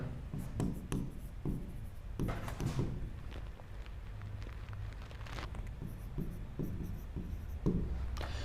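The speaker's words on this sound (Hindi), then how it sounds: "उसके बाद लिख देता हूं भाई" A pen writes on paper at a desk in irregular bursts of scratchy strokes with short pauses between them, close and moderately quiet, with no talking.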